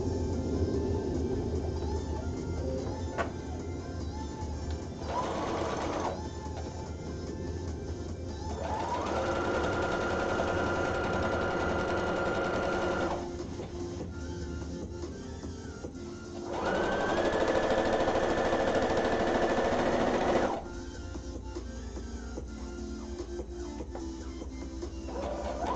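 A sewing machine stitches in several steady bursts of whirring, with short pauses and changes in speed between runs, heard alone at a moderate distance.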